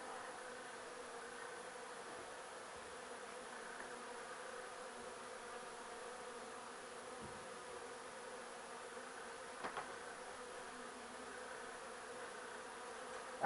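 Faint, continuous buzzing hum of many honeybees in a hive being handled, steady and soft with a couple of small knocks partway through.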